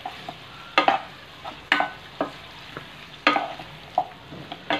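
Onion cut into quarters and mixed vegetables for a Thai vegetable dish cook in a pan, with a spatula scraping in several sharp strikes over a steady soft sizzle.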